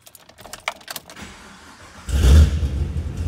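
A 2012 Chevrolet Camaro ZL1 with a roughly 600 horsepower engine and a lumpy cam. Keys jangle and faint clicks come first, then the engine cranks and catches with a loud, deep rumble that settles into a rough idle close by.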